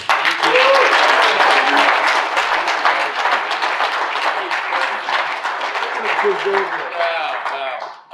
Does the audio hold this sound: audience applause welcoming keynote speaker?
yes